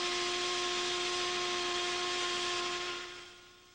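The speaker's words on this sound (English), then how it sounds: "Let us set the drill in motion." A drill starting up and running, a steady droning whine with a strong sustained hum that holds evenly for about three seconds, then winds down and fades, heard alone.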